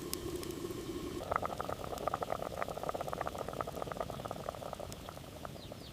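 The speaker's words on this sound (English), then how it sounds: "Now I'm boiling the yam until it's soft enough for pounding." Yam bubbles in a pot of boiling water, a soft dense crackle of popping bubbles that thickens after a quiet simmering start, steady and close with no voices.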